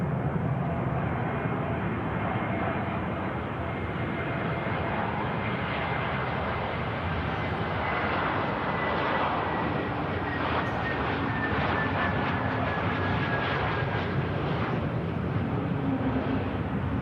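An airliner touches down at Manchester Airport, a continuous broad roar of engines and rollout heard from a distance, steady and moderately loud for the whole stretch with no talk.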